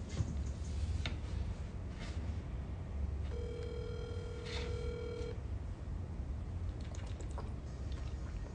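Outgoing telephone ring tone on a cold call, a single steady electronic tone lasting about two seconds, heard over a continuous hiss of line noise. Faint clicks come before and after it.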